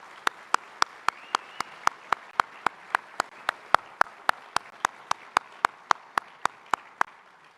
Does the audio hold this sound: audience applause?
yes